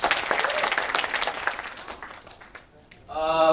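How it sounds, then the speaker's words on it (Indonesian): Indoor audience at a startup incubator talk applauds for a few seconds, the clapping fading to near quiet before a loud tonal sound cuts in at the end. "Berikan tepuk tangan lagi."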